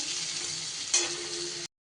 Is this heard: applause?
no